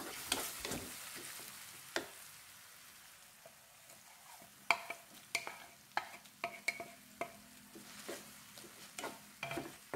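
Ground spice paste sautéed with lime leaves, bay leaves and bruised lemongrass sizzles quietly in a pan, with a run of sharp spatula clicks and scrapes growing busier in the second half, close-up and without speech.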